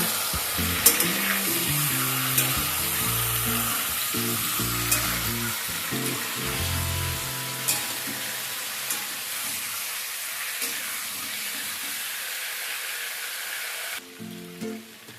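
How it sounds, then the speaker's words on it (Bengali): Chicken pieces fry in a pan over a medium-high flame, giving off a constant close hiss and crackle. Bursts of spatter and the scrape of stirring come and go, and no one speaks. "মিডিয়াম টু হাই ফ্লেমে চিকেনটাকে একটু লালচে করে ভেজে নেব।"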